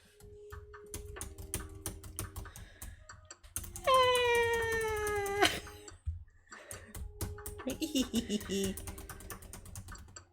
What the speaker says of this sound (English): The kitty.